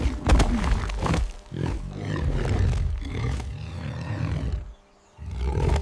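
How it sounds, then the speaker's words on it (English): A mother wild boar roars in a series of deep, rough, thunderous bursts, loud and close, with a brief pause of near silence before the roaring resumes. "the mother boar roared, a thunderous, bone-deep sound that vibrated through the ground"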